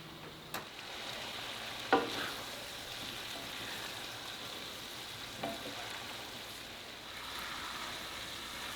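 A spoon stirs green olive pasta in a pan, a soft continuous scraping and gentle sizzle with a few brief louder clinks, faint and close.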